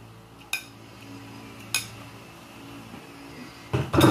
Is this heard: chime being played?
no